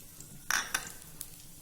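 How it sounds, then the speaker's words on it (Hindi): Whole spices dropped into hot oil in a kadai give a brief crackling sizzle with a couple of sharp spits, close and fairly quiet, with no talking. "अब इसके अंदर जो साबुत मसाले थे वो हम डाल देते हैं"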